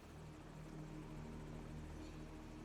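A steady helicopter drone with rotor thrum in Call of Duty 4, constant and fairly distant, no speech over it.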